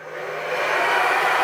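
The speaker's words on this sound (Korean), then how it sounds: "드라이기 하나만 해도 2kW네요." A 2 kW hair dryer runs off a camper van's 220 V inverter, giving a steady, airy whoosh that builds slightly and holds close and alone.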